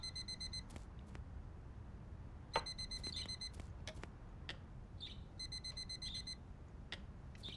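An alarm clock in the Blind Touch video game rings in three bursts of rapid, high electronic beeps, faint and thin over a low background hum, with scattered clicks between bursts.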